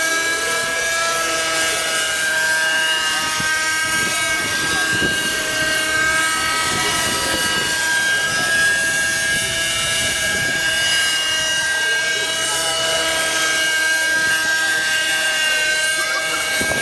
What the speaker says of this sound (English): Here's the Raptor taking off.